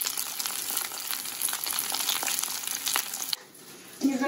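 Cabbage pieces sizzle steadily in a hot pan for a few seconds, a loud continuous crackle that cuts off abruptly, followed by a quieter moment and a brief clink near the end.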